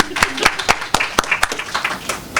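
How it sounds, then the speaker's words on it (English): A small audience at a Karachi literature festival poetry slam claps in a short burst of sharp, distinct hand claps, fairly close and uneven. "Let's give him a round of applause too."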